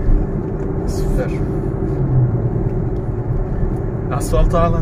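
A 2020 Audi SQ5 quattro SUV with a 3.0-litre V6 mild-hybrid diesel accelerates hard, its deep engine roar rumbling steadily while people talk and exclaim over it.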